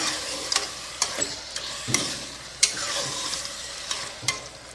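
Mutton kulambu masala sautéing in a pan over low flame, a soft steady sizzle broken by repeated scraping stirs of a spoon against the pan, with sharp clicks every second or so.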